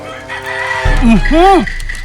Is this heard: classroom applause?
no